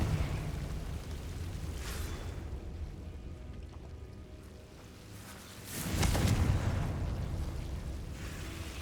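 The Confringo fire-blast spell from Hogwarts Legacy gives a muffled rumbling explosion that swells midway through, over a steady low roar of game ambience with no talk.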